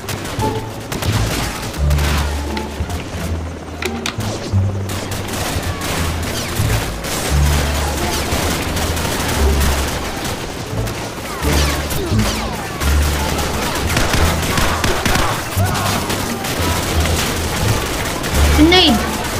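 Repeated grenade blasts and bursts of rifle fire in Call of Duty 4: Modern Warfare, loud and continuous with deep booms rolling under rapid gunfire, while a player talks excitedly over the battle.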